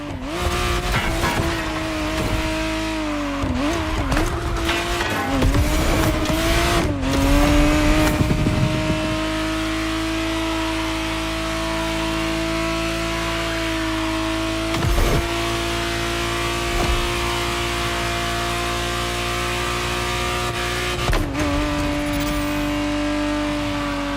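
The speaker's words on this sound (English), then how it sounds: "the exact model Motorfest has put in your hands is the 1991 re-engineered version of the Testarossa, introduced as the 512 TR" A 1991 Ferrari 512 TR, the re-engineered Testarossa, in the racing game The Crew Motorfest: its engine revs and shifts loudly early on, then settles into a long steady high drone, with occasional tyre squeals and bumps and no talking.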